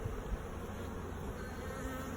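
Honey bees buzzing in an opened hive during a cool January inspection in North Carolina, a steady dense hum with no pauses.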